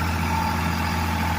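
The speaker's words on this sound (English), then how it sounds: "You watching the tractor?" Farm tractor engine idling nearby, a steady low hum with a throbbing drone that holds constant and unbroken, with no talk over it.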